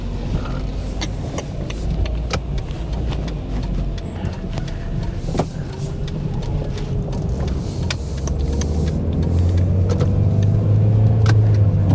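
A Hyundai Tiburon with a freshly repaired transmission pulls out onto the road, its engine rumbling low and steady inside the cabin, the drone swelling slightly louder toward the end.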